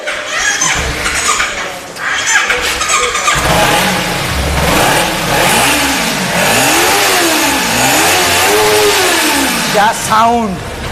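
A blue 2019 Kawasaki Ninja 300 ABS motorcycle at a second-hand bike market revs loudly nearby. The engine rises and falls in repeated swells, with people talking around it.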